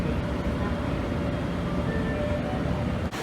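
Steady rumble of a train in motion, a broad continuous roar with faint tonal whine above it, holding level throughout before a brief dip near the end; no talking.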